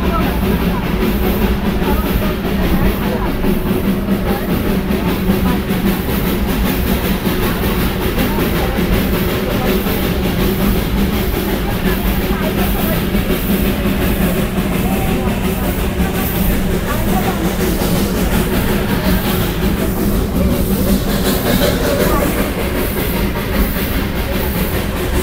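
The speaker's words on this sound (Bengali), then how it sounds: "টয় ট্রেন এখন বাতাসিয়া লুপ দিয়ে চলেছে।" The Darjeeling Himalayan Railway toy train rumbles steadily around the Batasia Loop, a continuous close mechanical roar with faint rattling, while people talk nearby.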